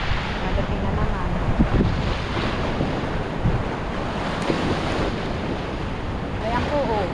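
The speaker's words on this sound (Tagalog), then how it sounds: "Lalaki ng alon." Large storm waves from a typhoon crash onto the shore in a steady loud roar of surf, with heavy wind buffeting the microphone throughout.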